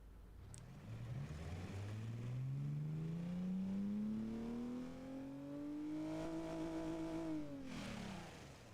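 Simulated 1-litre car engine in the Automation game revving up steadily, pitch climbing smoothly over several seconds, holding high, then dropping off near the end, heard alone and close.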